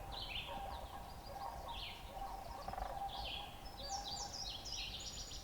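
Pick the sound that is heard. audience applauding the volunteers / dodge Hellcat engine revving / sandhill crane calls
sandhill crane calls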